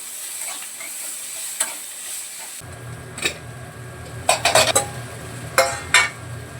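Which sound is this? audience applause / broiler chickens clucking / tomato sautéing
tomato sautéing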